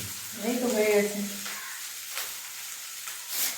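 Food sizzling and frying in a home kitchen pan, a steady hiss running through the whole stretch while someone speaks softly over it at the start.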